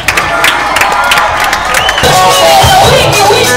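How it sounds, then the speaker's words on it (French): An audience at a school celebration of St. Jean-Baptiste de La Salle in Matadi cheers, whoops and claps in a loud, continuous crowd roar that swells toward the end, with children's shouts mixed in. "Applaudis quand même."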